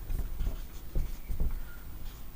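Pen writing out a chemistry calculation on paper, close scratchy strokes in short irregular bursts, with no talking.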